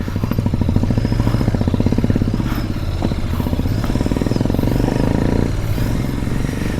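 A Royal Enfield Continental GT 650 twin labours up a steep, narrow hill road on Mullayanagiri near Chikmagalur, its engine thumping in a steady, rapid pulse, loud and close with a rough clattering edge.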